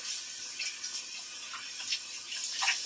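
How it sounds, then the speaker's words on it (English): Water runs from a bathroom sink tap while a wash rag is rinsed under it, giving a steady faint hiss with small splashy surges throughout. "I just turn the water back on, rinse out my wash rag that I use to clean the sink."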